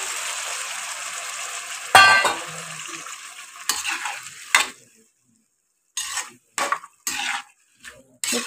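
Onions being sautéed with dissolved tamarind in a pan, a steady sizzle with stirring scrapes and clinks that cuts off partway, then returns in short bursts of pan noise.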